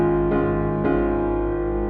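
A piano plays sustained chords from a song with the sustain pedal held down, two chord changes blurring into a rich, ringing wash that keeps sounding for two seconds, up close with no talk.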